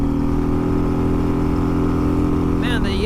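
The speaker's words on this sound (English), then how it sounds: "Man, the engine is screaming" A 2023 Harley-Davidson Road Glide Limited revs hard in fifth gear during a test ride, its engine a loud, steady, high-revving drone throughout, with a brief rising voice-like sweep near the end.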